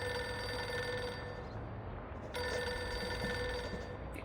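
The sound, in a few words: telephone ringing on an assistant's desk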